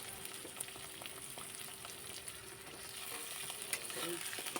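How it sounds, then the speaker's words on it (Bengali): Broad beans and potatoes sizzle together in oil in a pan, a quiet, even frying hiss with faint scattered pops and stirring sounds, and no talking. "সিমটা আমার এপিট ওপিট করে হালকা করে একটু যেই ভাজা হবে, তখনই আমি এই আলুগুলোও দিয়ে দিচ্ছি।"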